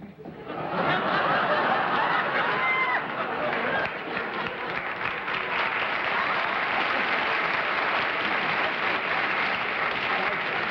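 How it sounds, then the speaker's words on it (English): A 1965 TV game-show studio audience breaks into applause, the clapping swelling quickly and holding steady and full, mixed with scattered chuckles and laughter. "The applause was because I finally got a yes."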